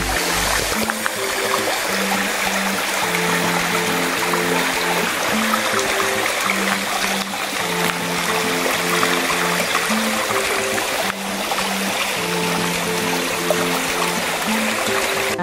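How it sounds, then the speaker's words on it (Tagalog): Clear water flows and gurgles continuously over rocks in a nearby rural stream, with a few quiet thumps mixed in. "Ang ganda ng source ng tubig. Ang linaw."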